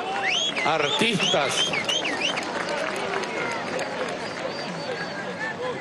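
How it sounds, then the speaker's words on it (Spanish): A large crowd at a student march rally applauds the performing artists, with shrill whistles and cheering shouts over the clapping. Someone speaks briefly over the noise. "aquí un aplauso a los artistas"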